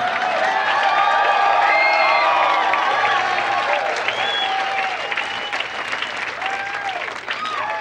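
A comedy club audience breaks into loud, sustained clapping mixed with cheers and scattered whoops, a dense crowd roar close and full that eases only slightly toward the end.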